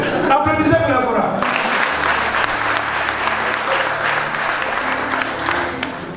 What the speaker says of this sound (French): on va vraiment applaudissez pour la chorale